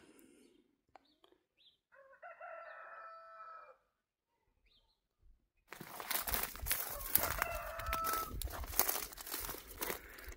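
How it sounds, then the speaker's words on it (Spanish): A rooster crows loudly amid busy outdoor noise in the second half, with a fainter crow-like call earlier over near silence. "¿Y a poco no logramos escuchar el hermoso cantar de un gallo?"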